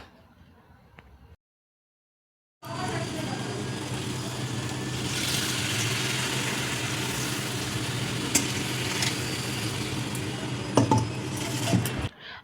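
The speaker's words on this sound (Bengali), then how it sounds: "ওর পরে কুকারের ভিতরে এই ধোয়া চালটা দিয়ে দেবো।" Washed rice is tipped into a pressure cooker and stirred, a rough grainy rustle with small metallic clinks after a brief silence, continuing at close range to the end.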